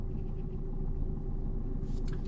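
A car creeping slowly backward during a driving-test parking manoeuvre at the Villepinte exam centre, a steady low engine rumble at idle-like revs, close and even throughout, with a faint higher clatter near the end.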